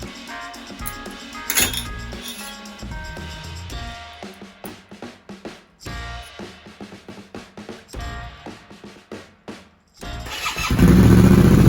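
After metallic clinks and taps of parts being handled, a Yamaha Tenere 700 fitted with a Camel ADV high-mount exhaust, its baffle removed, starts up and settles into a loud, deep, close rumble.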